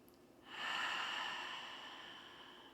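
A single deep inhalation during a yoga core exercise, a soft, close breath drawn in steadily for about two seconds.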